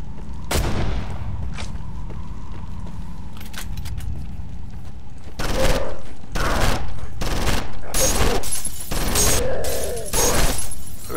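Gunfire from a firearm in the horror game Condemned: Criminal Origins: loud, close shots crack out in bursts and clusters, some spaced apart and others in rapid succession, over a dense, noisy background.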